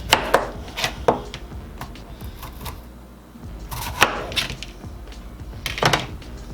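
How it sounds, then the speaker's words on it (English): A knife chops potatoes into bite-sized pieces on a board in a home kitchen: sharp, close knocks come in quick clusters with short pauses between them, and no one speaks. "we're going to chop those up into nice bite-sized pieces also"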